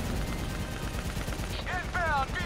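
Rapid bursts of gunfire from the Black Ops 3 video game crackle continuously at moderate level, mixed with short synthetic warbling tones near the end.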